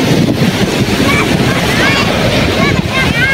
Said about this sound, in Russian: Прохладная уже дует. Холодный ветер.